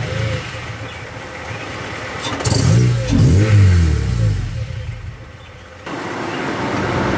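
A cold 2002 Acura RSX Type-S engine idles steadily, its low hum briefly rising as the revs climb, while a person talks over it.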